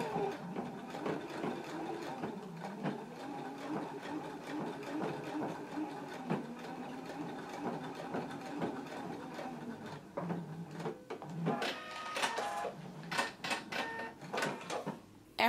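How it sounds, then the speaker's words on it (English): A sewing machine stitches across the top fold of pants fabric to attach a carrier, running in a steady mechanical whir with short bursts and stops, close and continuous throughout. "we can go to the sewing machine and stitch them right across the top of the fold"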